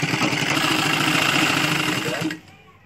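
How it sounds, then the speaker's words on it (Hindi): A sewing machine stitches a dhoti shalwar in a close, loud, steady rapid whir that runs for over two seconds and then stops abruptly, leaving near silence. "इस तरह ये पूरी सिलाई हम ले लेंगे"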